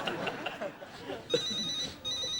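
A mobile phone rings out in a comedy pub quiz audience, a bright electronic ringtone with repeated trilling tones, coming in bursts amid talk and room noise.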